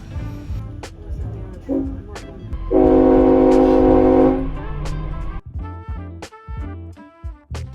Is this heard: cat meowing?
no